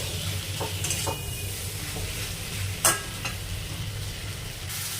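Chopped tomatoes frying in a pan for an egg curry, a close, continuous sizzle with occasional scraping and knocks from a spoon stirring them.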